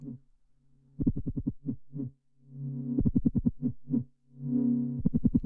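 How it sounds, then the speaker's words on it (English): Buzzy, distorted notes from a Studio Electronics ATC synthesizer's noise and distortion source play in rapid stuttering bursts and sustained tones, a harsh gritty timbre with short pauses between phrases. "This button selects the mix level of the noise or distortion."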